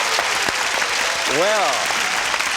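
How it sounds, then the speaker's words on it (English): Studio audience applause on the Talk About game show, a steady broadband wash of clapping throughout, with someone briefly speaking over it. "And all this applause from our studio audience."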